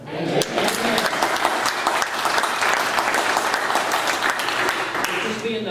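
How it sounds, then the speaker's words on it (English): A church congregation claps heartily and steadily, a dense burst of hand clapping that carries on without pause from start to finish. "give a good hearty amen and hand clap"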